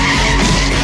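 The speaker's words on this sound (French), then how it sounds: "Heureusement, il démarre la voiture." A car's tires skid and squeal loudly as it speeds off, a dense, continuous roar filling the short moment.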